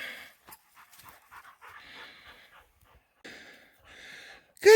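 A dog pants in short, breathy bursts just after retrieving an elk shed antler outdoors, the panting near and moderately loud with brief pauses and a sharper sound at the end.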